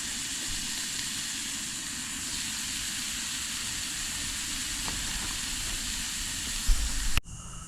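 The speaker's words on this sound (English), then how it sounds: "About one of the only things I can cook pretty good, a tuna steak." Tuna steak sizzling steadily on a camp stove at a stealth hammock campsite, a constant quiet hissing fry with a brief clatter near the end.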